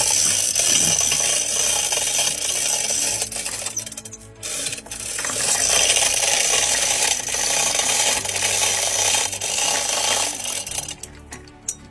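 A hand-cranked geared mechanism pulling drill rods up out of a borehole gives off continuous dense metallic clicking and rattling from the gearing, close and fairly loud, with a brief pause partway through.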